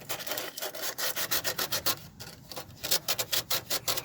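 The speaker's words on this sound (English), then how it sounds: "I'm wrapping a piece of sandpaper around my finger and getting behind here." Sandpaper is wrapped around a finger and rubbed by hand over surface rust on a Tesla Model 3. The strokes are close, rhythmic and rasping, coming in quick back-and-forth runs with a short pause near the middle.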